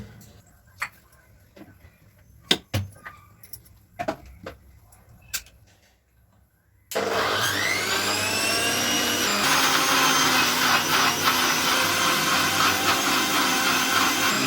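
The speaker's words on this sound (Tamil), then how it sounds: "நவாப்பழம் எல்லாம் கட் பண்ணி வச்சதை மிக்ஸி ஜாரில் போட்டு ஃபஸ்ட்டு ஆட்டி எடுத்துக்கலாங்க" A few clicks and clatters, then a mixer grinder starts with a loud whirring roar that runs steadily to the end, blending chopped jamun fruit (Java plum) for jam.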